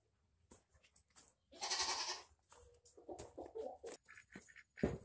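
Goats bleating at feeding time on a small farm during morning chores, a few short cries mixed with soft farmyard noise, one louder, longer bleat in the middle and scattered nearby calls.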